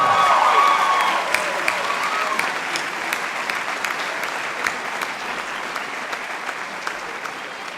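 An audience at a Year 12 high school graduation ceremony applauds award recipients with steady, dense clapping that starts loud and slowly thins, continuing throughout with a few sharper claps standing out.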